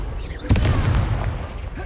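Confringo spell blast in Hogwarts Legacy, a single sudden burst halfway through with a crackling fiery tail over steady low combat rumble.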